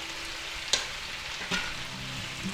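Onions frying in a pan with pepper steak, a steady close sizzle with two short scraping stirs of a utensil.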